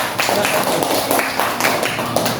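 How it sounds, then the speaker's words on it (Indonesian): Classroom of fourth-grade pupils clapping for a group that made flowers from waste, a dense, steady patter of many hands at moderate loudness throughout. "Tepuk tangan untuk kelompok 3."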